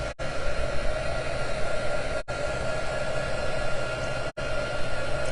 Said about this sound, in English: turn on my heat gun and just take a minute to dry it